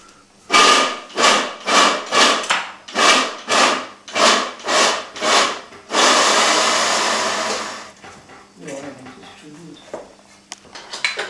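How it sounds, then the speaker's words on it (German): Lemons being cut and then squeezed, heard as a row of about ten rhythmic scraping strokes followed by a longer continuous rasping grind, with quieter clatter and handling noises afterward. "In der Zwischenzeit werden jetzt die Zitronen geschnitten und ausgepresst."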